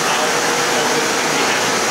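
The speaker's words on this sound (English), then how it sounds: "you have somebody cleaning with a vacuum cleaner behind you" A vacuum cleaner runs steadily in the background indoors, a constant loud whooshing drone with no breaks.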